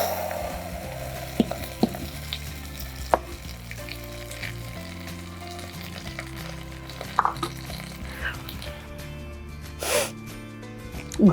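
A hot garlic and curry-leaf tempering is poured into a clay pot, giving a steady sizzle with scattered clicks and knocks from stirring. It sounds close, with no speech.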